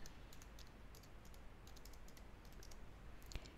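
Typing on a computer keyboard, a run of quick light key clicks at an uneven rhythm with a sharper tap near the end, fairly quiet and close.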